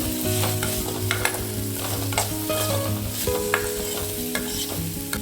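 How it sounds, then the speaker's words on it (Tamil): Raw plantain slices coated with chilli powder, garam masala and salt sizzle in a pan while a spoon stirs and scrapes them, a loud, close, steady fry with recurring clinks over a low tonal background. "லைட்டாக ரோஸ்ட் ஆகட்டும்"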